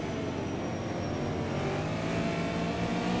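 Race cars at the Donington championship heading down the straight: a continuous engine roar with a rising, sweeping whine as cars accelerate, heard from a distance at steady loudness.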